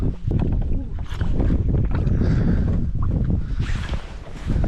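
A motorboat engine rumbles steadily and close on a lake, mixed with buffeting wind noise and a few brief voices.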